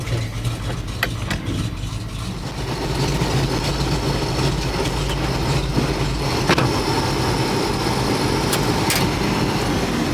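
A vehicle engine on a farm, expected not to start, runs steadily at close range, its low rumble rising and holding after about three seconds, with scattered mechanical clicks over it.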